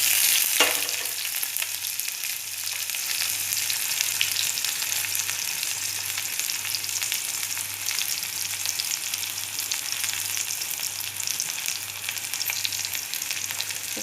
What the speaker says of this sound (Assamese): তেল গৰম হৈ গ'ল মই মাছৰ মূৰবোৰ ফ্ৰাই কৰা তাতে পিঁয়াজ দি দিলোঁ